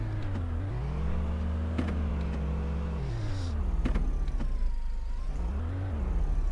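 A car in the driving game Auto Sale Life: Fresh Start heads to the workshop, its engine humming steadily and rising and falling in pitch as it speeds up and slows, with faint clicks on top.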